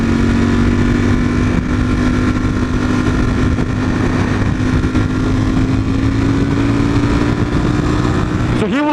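Nissan GT-R in sport mode accelerating, a steady droning engine note that climbs slowly in pitch as the car pulls, heard from inside the cabin, loud and continuous with a brief rise at the end.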